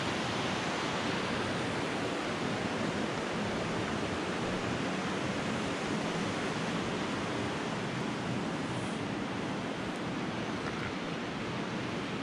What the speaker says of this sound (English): is the deep gorge of Blow Me Down Brook